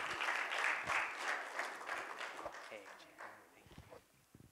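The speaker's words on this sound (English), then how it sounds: "huge round of applause for both a member and our realtor" Applause at an annual business meeting, a burst of clapping from a modest crowd that thins and fades out over a few seconds, with a voice briefly audible near the end.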